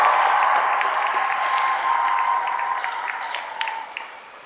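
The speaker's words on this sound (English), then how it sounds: "Give them all a big round of applause for their work" Steady crowd applause at a Statehood Day ceremony for members of the Bicentennial Commission, a dense wash of many hands clapping that holds evenly and slowly thins toward the end, with no talk over it.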